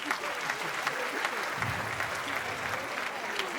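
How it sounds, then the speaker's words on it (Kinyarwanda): An audience at a comedy show claps for the women present, giving a steady moderate round of applause with some crowd murmur and faint voices mixed in underneath. "buri mugore wese uri hano mumuhereza amashyi aho yicaye n'umukobwa"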